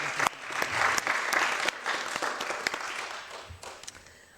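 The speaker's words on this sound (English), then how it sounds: "So give yourself a clap." Audience at an annual council meeting clapping, a short burst of applause from a modest crowd that thins out toward the end.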